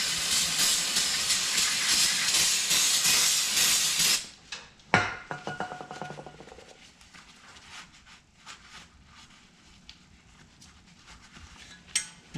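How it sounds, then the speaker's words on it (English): Brake cleaner sprays as a loud, close continuous hiss onto Ford F-150 front brake parts for about four seconds, then cuts off, leaving quieter clatter and handling noises. "Then I use my brake cleaner."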